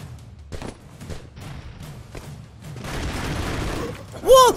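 Grenades go off in Broforce, a run of thumping blasts and crackling bursts that build into a denser rumble, ending with a sharp loud ringing hit.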